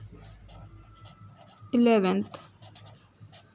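A fraction is written by hand, with short pen-on-paper scratches under a voice speaking.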